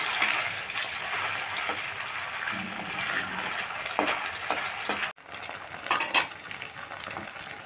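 Paneer pieces fry in oil with a steady, close, dense sizzle and occasional utensil clinks and scrapes; the hiss dips briefly before resuming.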